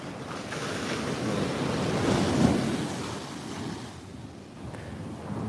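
Ocean waves at the eroded beach of Muaro Bantiang, Tarusan, a broad wash of surf rising and easing back, with gusty wind buffeting the microphone, moderate in level and no voices.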